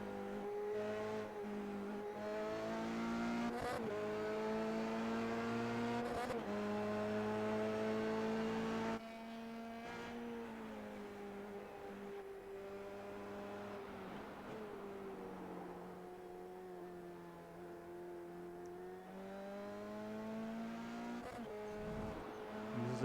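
An SCCA Formula Regional open-wheel race car laps a 16-corner, 2.38-mile road course, its engine a sustained high-pitched drone rising and falling through shifts and corners, with brief tire squeals and occasional abrupt gear changes.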